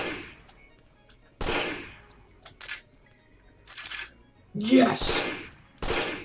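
Gunfire in the Amazing Frog video game: a few sharp, loud bursts spaced apart, separated by quieter stretches, with a brief excited voice among them.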